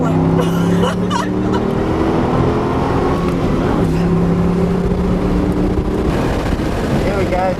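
A Holden Monaro's engine drones at steady revs on a race warm-up lap, heard from inside the car, loud and close with heavy wind rumble and a voice speaking over it.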